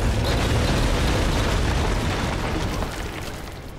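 A massive explosion in the video game Pacific Drive, a loud sustained broadband roar that rumbles steadily for several seconds before tapering off slightly at the end, with no voices.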